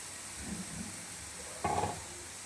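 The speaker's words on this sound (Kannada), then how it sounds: "ಅದೇ ತುಪ್ಪಕ್ಕೆ ನಾನು ಕ್ಯಾರೆಟ್ನ ಹಾಕ್ತಾಯಿದ್ದೀನಿ. ತುಪ್ಪದಲ್ಲಿ ಒಂದು ಸ್ವಲ್ಪ ಫ್ರೈ ಮಾಡ್ಕೊಳ್ಳೋಣ ಅಂಥೇಳಿ ಹಾಕ್ತಾಯಿದ್ದೀನಿ." Grated carrot sizzles softly in hot ghee for carrot halwa. The frying hisses steadily at low volume, and a brief louder stir or scrape comes near the end.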